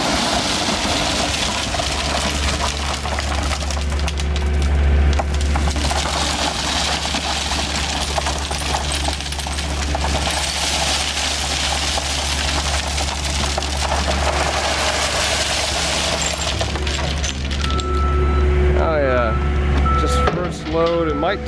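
A truck unloads gravel into a lined recreational pond, its steady idling engine droning loudly under a continuous coarse rush of pouring stones, with voices faintly present.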